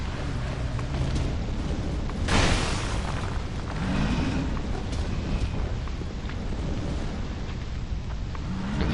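A rumbling explosion in the video game Dark Souls II, a broad burst near the start of a dense, continuous roar of game noise that stays loud throughout.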